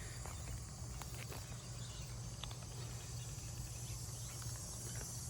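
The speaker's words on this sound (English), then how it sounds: "Lots of grasshoppers." Grasshoppers chirp steadily among outdoor petunia baskets and flower containers in September, a dense high insect buzz running unbroken alongside a low hum, with faint scattered rustles and ticks and no talk.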